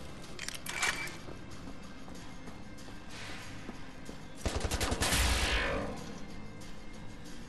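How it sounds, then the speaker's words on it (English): Gunfire in Wolfenstein: The New Order, heard as a few scattered shots followed by a louder sustained burst of automatic fire in the middle, then fading back to quieter game ambience. "Keep shooting."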